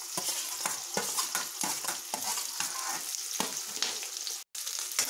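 Chopped onions and green chillies frying over high flame in a pan with ginger and garlic for an Indian-style veg macaroni, with steady sizzling and repeated scrapes of stirring throughout.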